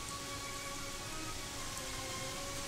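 Rain in the video game Gothic 3, a steady, faint, even patter of rainfall with a soft ambient hum under it, continuous and unbroken.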